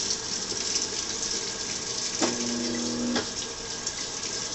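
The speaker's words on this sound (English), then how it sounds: "It does this thing where it puts in water and it spins, puts in water and it spins." A newly delivered Maytag Bravos top-load washer fills with water and spins, giving a steady rushing wash of water noise with a brief humming tone rising midway, close and fairly loud.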